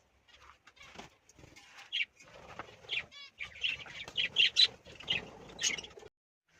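Birds inside a bird house give off a busy scatter of chirps, squawks and wing flutters, moderately close, in irregular bursts that build toward the end, with no talk.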